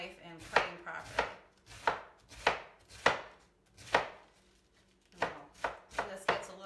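A knife chopping vegetables for Italian coleslaw on a cutting board: about a dozen crisp, separate cuts at an uneven, unhurried pace, close and clear with no talking.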